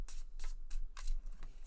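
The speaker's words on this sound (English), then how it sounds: "You can shuffle them, yep." A deck of Pandemic board game cards is riffle-shuffled on a tabletop in quick bursts of crisp, fluttering riffles, about five close rustling passes in under two seconds. There is no talk.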